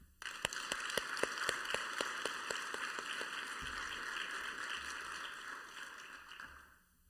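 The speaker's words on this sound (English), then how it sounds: "I hope that you will join me in a round of applause for him" Dense, steady applause for a participant at a February 2021 milestone celebration, sustained for several seconds with sharp individual claps standing out early, then tapering off at the end.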